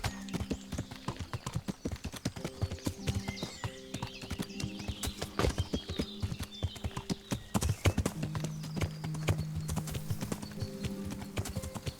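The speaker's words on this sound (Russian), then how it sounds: "Беги, лошадь, беги." A horse gallops in the Kingdom Come: Deliverance video game, its hooves clip-clopping in a quick, continuous rhythm for about twelve seconds at moderate volume, with occasional faint background sounds.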